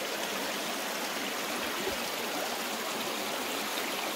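River water flows steadily along Hell Creek on a hike, a close, continuous broadband rush with no voices over it.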